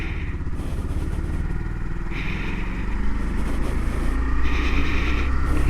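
A 2019 Honda Monkey motorcycle engine idles and runs with a dense, steady low chugging rumble, close and continuous, swelling slightly louder toward the end.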